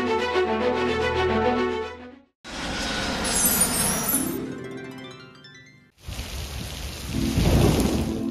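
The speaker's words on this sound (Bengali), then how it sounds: "প্রচণ্ড বৃষ্টি হচ্ছে বাইরে।" Heavy rain pours outside in Singapore with rolling thunder, a dense, loud roar that continues in three sustained stretches broken by brief gaps.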